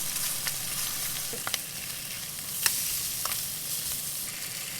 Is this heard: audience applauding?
no